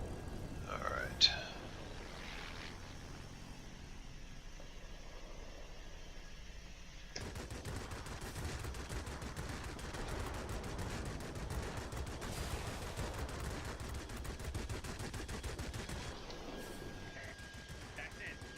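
De Havilland Hornet heavy fighter cannons firing in the World of Warplanes video game, heard as a long, dense run of rapid gunfire bursts at moderate level, with an engine drone underneath.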